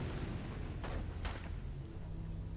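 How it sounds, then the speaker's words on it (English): Explosion in the Resident Evil video game: a deep rumbling boom with two brief bursts layered over low game noise, moderately loud and without talk. "Explosion!"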